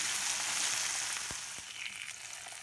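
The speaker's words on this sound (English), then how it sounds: "Pan fry tofu both sides until it turns into golden brown." A packet of tofu pan-frying in a pan for Korean braised tofu, with a steady close sizzle of hot oil and a couple of soft knocks. No one speaks.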